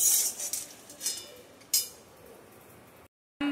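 Peanuts dry-roasting in a pan for sesame-peanut laddoos make faint rattling clinks and scrapes, with a few brighter rustling bursts, before it briefly cuts to silence.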